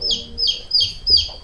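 Chickens in a village courtyard, four short, high, evenly spaced calls close by, with nothing else around them.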